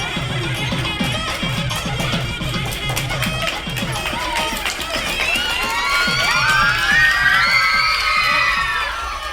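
Crowd of students loudly shouting and cheering at a school retirement celebration, a dense continuous roar of young voices with rising whoops, close and sustained throughout.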